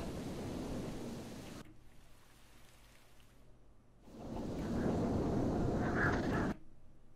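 Thunderstorm in the video game Minecraft: heavy rain hisses steadily while thunder rumbles come and go in broad swells, the loudest burst arriving near the end before it cuts back.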